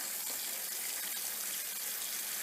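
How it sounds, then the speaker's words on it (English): Tap water runs steadily into a sink for washing fruits and vegetables, a constant close hiss and splash with no talking. "You start the water running"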